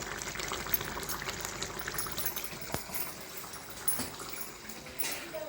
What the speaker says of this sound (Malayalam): പുളി നല്ലോണം തിളയ്ക്കുന്നുണ്ട്